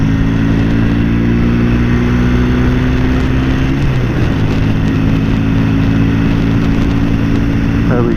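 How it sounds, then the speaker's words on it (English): A 1969 Norton Commando Mk1 motorcycle cruising at about 60 mph, its engine a loud, steady drone with a slight pitch shift midway, heavy wind rush over it, no pauses. "60 mile an hour or thereabouts, cruising speed on my Norton"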